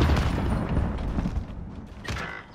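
A frag grenade detonates in a multiplayer shooter round, a loud booming blast followed by rumbling mechanical clatter and scattered gunfire, with a second sharp burst near the end.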